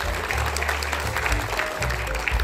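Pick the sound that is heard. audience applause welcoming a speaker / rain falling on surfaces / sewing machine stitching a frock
audience applause welcoming a speaker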